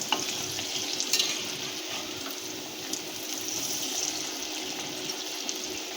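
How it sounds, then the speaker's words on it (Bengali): An egg cutlet frying in a pan over low gas, a continuous soft sizzle with a few light clicks and scrapes as it is turned, quiet and close, with no speech. "ভালো করে লাল লাল করে ভেজে নেবো"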